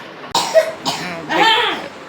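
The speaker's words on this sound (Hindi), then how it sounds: "बहुत खांसी उठ रही है रात से" Three hoarse, chesty coughs come in quick succession from someone close by, each burst short and rough, the last one drawn out slightly longer.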